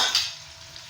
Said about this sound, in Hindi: ये मैं इसको फ्राई कर लूँ इसको ऑयल में अच्छी तरह।